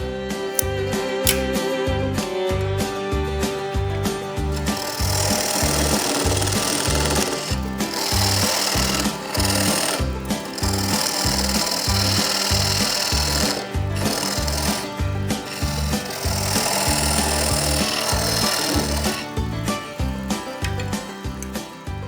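A wooden flask spins on a wood lathe while being shaped, giving a loud, close, continuous whirring drone with rhythmic pulsing and scraping bursts as the tool meets the wood.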